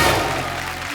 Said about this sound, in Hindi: जोरदार तालियां एक बार ऋषि सर के लिए।